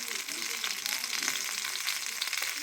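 Mackerel pieces coated in rice flour and masala shallow-frying in hot oil, giving a dense, continuous crackling sizzle that stays even and close throughout, with no talk over it.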